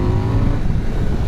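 A 2026 KTM 990 RC R motorcycle riding on the road gives a loud, close, steady low engine drone with constant wind rush and no voices.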